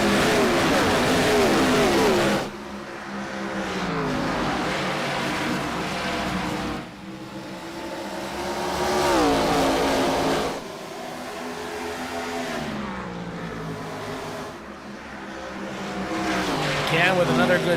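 Race cars in an IROC Challenge Series race at Iowa Speedway, engines roaring and revving as a pack sweeps past in repeated waves, loud and continuous under a commentator's voice.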